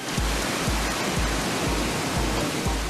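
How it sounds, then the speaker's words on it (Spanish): A stream of clear water winds between rocks in Chile, making a steady, full rushing hiss. Regular low thumps pulse under it about twice a second, like a background beat. "Hilos de agua cristalina que bajan serpenteando entre las rocas."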